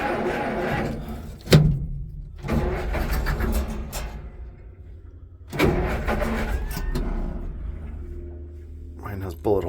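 An Austin Western 99H road grader running on gasoline cranks and fires up, settling into a low, slightly uneven chugging idle, with a second cranking burst midway and people talking nearby.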